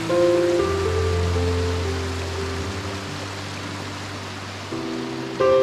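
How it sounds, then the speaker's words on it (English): Small streams trickle down green slopes near Salalah, Oman in the season after the Khareef monsoon, a steady broadband wash of running water with a low sustained tone beneath it, briefly rising at the very end. "tiny streams trickled gently down the slopes, like faint echoes of the powerful waterfalls"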